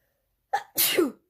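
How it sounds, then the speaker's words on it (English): A single loud, close sneeze: a sharp intake followed by a forceful burst, with silence before and after. "I'm going to sneeze"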